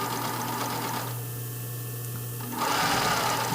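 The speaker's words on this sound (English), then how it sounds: "I'm kind of sewing in that little scallop." A sewing machine stitches lace on a brief, running in a fast, steady whir that pauses briefly and then resumes louder, close up with no talking.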